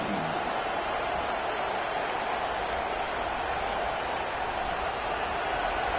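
Home crowd at an SMU college football game roars steadily as the defense faces third down, a dense, sustained wall of cheering with no breaks.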